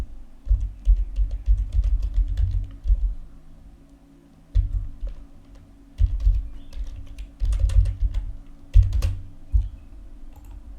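Quick bursts of keystrokes on a computer keyboard, typing a short English prompt for an AI image generator, with pauses between the runs of clicks; nobody speaks.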